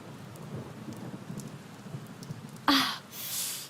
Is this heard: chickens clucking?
no